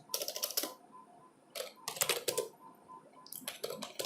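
Bursts of quick keystrokes on a computer keyboard, close and crisp, in three separate runs with short pauses between them and no talking.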